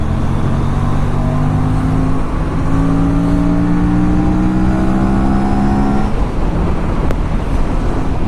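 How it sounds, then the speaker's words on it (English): A loud, steady engine roar with rising harmonic pitch as an Aprilia RS 457 sport motorcycle accelerates in the rain, continuous throughout with no voices. "you just twist the throttle and the bike lunges forward like a beast"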